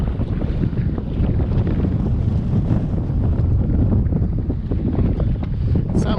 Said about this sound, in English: The wind has shifted west. It's picked up.